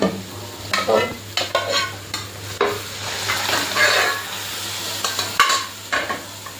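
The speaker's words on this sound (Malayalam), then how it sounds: "ഇളക്കി യോജിപ്പിച്ച് എടുക്കാം" Mashed potato being stirred into an egg curry in a pan, repeated rhythmic spoon scrapes and soft bubbling sizzle over about seven seconds, close and clear with no speech.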